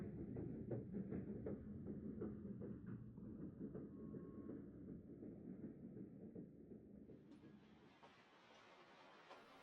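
A Southern Pacific freight train idles at Vasona Junction while a switch is thrown, giving a steady low rumble with faint clicking that thins out toward the end, heard alone at moderate distance.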